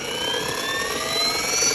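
A Trex 450 electric RC helicopter with a Flywing H2 controller spins up, its motor whine rising in pitch and settling into a steady, loud, close drone as the RPMs level out.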